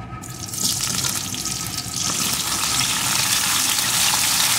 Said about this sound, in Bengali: এখন এই তেলের ভিতরে দিয়ে দেব পটল।